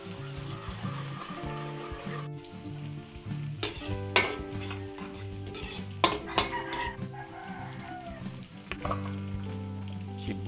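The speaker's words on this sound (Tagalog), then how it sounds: "Mag-igisa tayo ng bawang at sibuyas." Garlic being sautéed in a pan for Filipino-style chop suey, a loud steady sizzle with clattering spatula strokes against the pan, close up and without talk.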